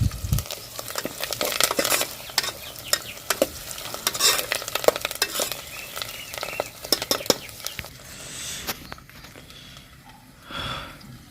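Curry leaves and onions frying in a pan for a red lentil dal, with a lively crackling sizzle broken by repeated scraping stirs, close and clear, and a brief louder hiss near the end.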